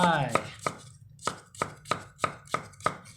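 A knife chops cucumber sharply on a cutting board, about ten crisp evenly spaced strikes in a steady rhythm, close and clear with no talking.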